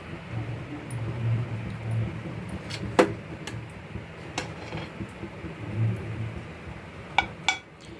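A pan set down on a gas stove while making kadle bajji, a few faint metallic clinks and clatters scattered over a low kitchen hum, one sharper knock standing out, no voices.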